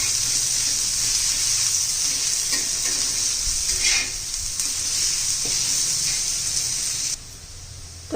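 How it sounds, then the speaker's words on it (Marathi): Onion sizzling in hot oil in a pan while being stirred, cooked only until its rawness goes, for a chutney; a steady, close, continuous fry with faint scraping and no voices. "तेल घालून आपण कांदा परतून घेणार आहोत."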